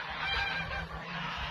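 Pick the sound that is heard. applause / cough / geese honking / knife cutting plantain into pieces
geese honking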